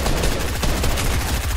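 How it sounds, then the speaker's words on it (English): Fortnite gunfire, a dense rapid rattle of shots that keeps going through the whole moment, loud and close, with no voices over it. "I hear somebody shooting, like, right next to us"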